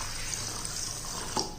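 Water pours steadily from a tap over a couple of spoonfuls of ordinary rice and grains being washed for ragi dosa, a continuous soft splashing rush with a small louder splash near the end and no talking.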